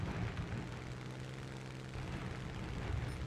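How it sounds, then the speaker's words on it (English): A bomber aircraft's engines drone in War Thunder, a steady low propeller hum that holds level and close for the whole stretch, with no voices over it. "There is a bomber."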